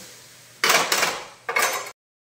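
Two metallic clatters from a lid set onto a cooking pot, close by, each a short broadband burst with a brief rattle, then silence.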